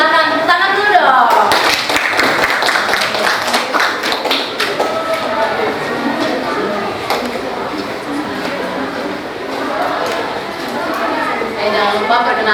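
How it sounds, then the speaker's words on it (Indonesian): Students in a classroom clap for a presenting group, a loud burst of hand claps and taps mixed with children's chatter and voices that continue over the clapping. "Silahkan tepuk tangan dulu dong."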